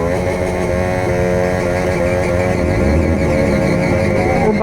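A motorcycle engine runs loud and continuous at a Republic Day bike meetup, its steady drone rising and shifting in pitch throughout without pause.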